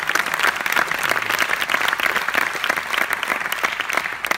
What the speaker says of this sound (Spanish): nombráis un premio, te aplaude.